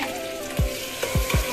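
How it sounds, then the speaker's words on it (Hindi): Masala sizzles and fries in a pan, a loud continuous crackling hiss punctuated by three sharp scraping or stirring knocks. "मसाला भूना जा रहा है।"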